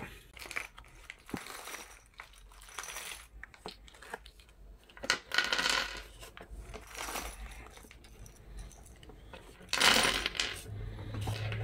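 Small metal screws for a kayak mount being handled, faint clinking and rattling in scattered bursts with light rustling between, close by and quiet.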